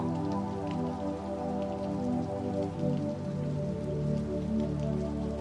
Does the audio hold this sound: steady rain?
yes